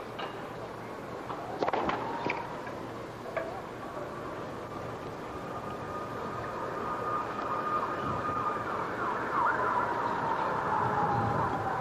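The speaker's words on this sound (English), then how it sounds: "those sirens won't be helping his concentration" A siren wails steadily in the distance beneath a constant crowd murmur at a tennis match, with a few sharp ticks early on.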